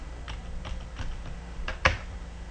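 Keystrokes on a computer keyboard while entering commands in a Linux Deepin 2014.3 terminal: a handful of sparse, quiet clicks spread over a couple of seconds, ending in one sharper, louder tap, with no talking.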